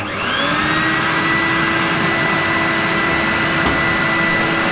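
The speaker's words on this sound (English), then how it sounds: "So I think I'll try the Hoover quick, see if that works" A Hoover vacuum cleaner draws air through a cheap shot blasting cabinet, a loud steady whining roar that holds constant throughout, close by and with no talking over it.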